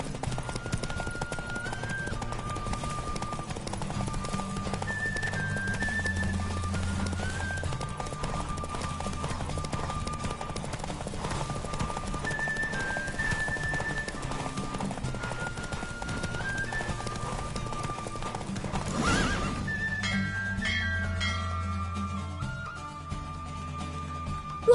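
A horse galloping in a race in the video game The Witcher 3, with rapid steady hoofbeats running continuously under game music, and a brief rushing swell near the end.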